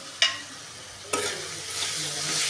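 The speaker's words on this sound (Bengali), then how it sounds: "মশলাটা দিয়ে দেখুন সুন্দর করে কষানো হয়ে গেছে।" Spice masala with cumin powder stir-fried in a pan for broiler chicken curry, two sharp spatula strikes followed by rising steady sizzle and stirring, close and without speech.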